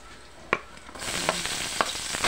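A ladle scrapes and stirs squash and bitter gourd in a pan, with irregular knocks against the metal over a steady sizzle of frying. It is fairly close and has no talk over it.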